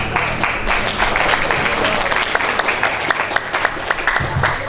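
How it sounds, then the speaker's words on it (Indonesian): Warm applause for the priest fills a crowded hall at a Perisai Diri anniversary ceremony, steady and dense clapping from many hands throughout. "Tepuk tangan buat beliau."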